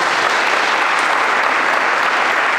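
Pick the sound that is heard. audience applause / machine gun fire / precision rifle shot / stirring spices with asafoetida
audience applause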